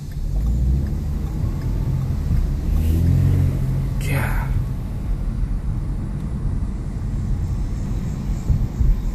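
Turbocharged four-cylinder engine of a 2013 Ford Fusion pulling as the car accelerates, a steady low hum and road rumble from inside the cabin, rising briefly with a faint whoosh mid-run.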